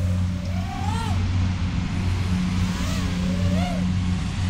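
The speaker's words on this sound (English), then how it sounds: "This prop sounds very typical of a lot of the other HQ props" A small HQprop T3x1.5 drone propeller spins steadily with a constant mid-pitched whine and low motor hum, close and continuous, with faint pitch wavers over the droning tone.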